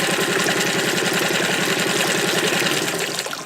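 A small boat's outboard engine idles at low RPM, a loud, close, steady chugging with a regular rapid pulse that holds evenly for the whole stretch and eases slightly at the end.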